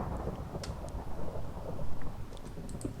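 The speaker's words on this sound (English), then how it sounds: "Thunder snow." Thunder during a snowstorm in Minecraft, a low rumbling roll with rain-like hiss, moderately loud and close, with no talking.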